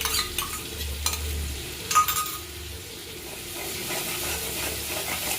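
A curd and potato mixture for aloo dum stirred in a hot kadai, giving a continuous sizzle with scraping strokes and one metallic clink, close by and without talk.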